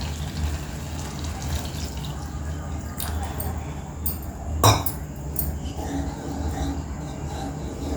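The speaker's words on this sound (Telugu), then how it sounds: "ఇప్పుడు మనం గ్రేవీ కొరకు వాటర్ వేసుకోవచ్చండి" Water splashing and trickling into a pan of egg gravy amid a steady background hiss, with a brief louder pour in the middle and a voice speaking faintly.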